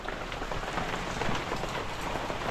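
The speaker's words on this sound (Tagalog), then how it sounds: "nandito tayo sa bahay at napakalakas pa ang ulan" Heavy rain pours down steadily outside a house, a dense, loud, unbroken hiss of drops hitting surfaces with no pauses and no voices.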